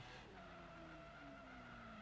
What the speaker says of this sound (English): I'm going to launch the car and slam on the brakes.